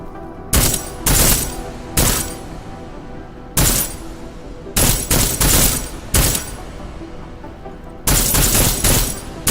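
Armor-piercing rounds fired from a gun in the video game Deus Ex: Mankind Divided, heard as loud, close bursts of rapid gunfire in several separate volleys with short pauses between them, with no speech over the shooting.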